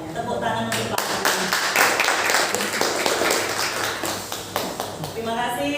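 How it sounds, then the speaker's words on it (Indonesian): Clapping at an orientation seminar for public-service contract teachers, audible as a burst of fairly close handclaps with distinct individual claps, while people talk over it at the start and end. "Tepuk tangan untuk Pak Udin."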